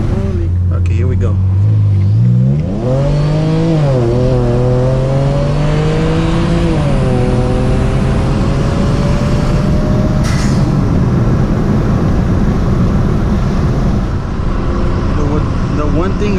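A car engine in third gear revs up loudly, its pitch climbing in rising sweeps as it accelerates, holding a strong steady roar with someone talking over it.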